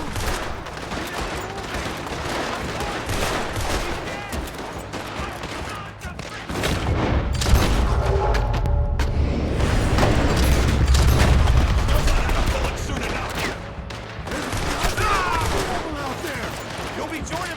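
Dense gunfire in the Western shootout game Red Dead Redemption 2, rapid overlapping shots and booms crackling continuously at close range, with voices talking intermittently beneath the volleys.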